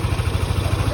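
A Honda PCX 160 scooter engine idles while warming up, a steady close mechanical thrum with low pulsing and light clatter running throughout without pause.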